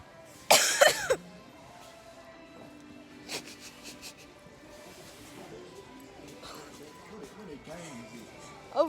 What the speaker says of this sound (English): I'm gonna cough hard.